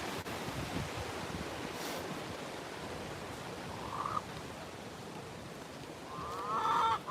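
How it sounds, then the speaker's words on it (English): Strong wind blowing outdoors, a steady roaring rush buffeting the microphone throughout and swelling louder toward the end, with no voices. "Look how windy it is."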